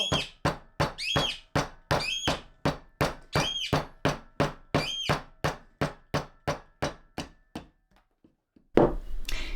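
A chisel is struck into wood with a mallet, making a long run of sharp, regular knocks close up, each with a ringing tail. The blows stop briefly, then a burst of rustling scraping follows.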